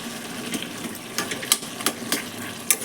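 Vegetable stalks and spices sauté dry in a pan with a steady close hiss and scattered sharp pops and crackles.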